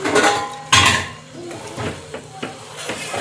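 Metal utensil scraping and clinking against a pot while soaked biryani rice is gently mixed in, a few distinct clatters and knocks close up with no talking.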